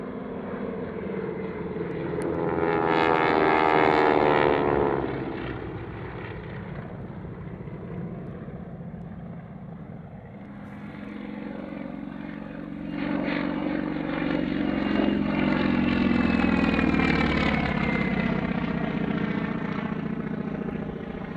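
Propeller warbirds descended from the North American NA-16 pass at an airshow, two distinct rising and fading engine roars with buzzing propeller harmonics, the second pass longer and louder.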